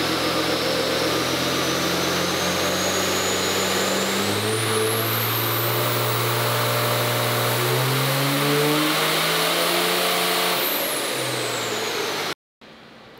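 A roughly 1000-horsepower car engine revs hard through a dyno power pull, its tone climbing steadily from low rumble to a high scream, then cutting off abruptly near the end; loud and close, no talk.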